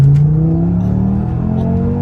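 Audi RS3 engine revving loudly and up close, a smooth rising note that climbs steadily for about two seconds, heard alone without talk.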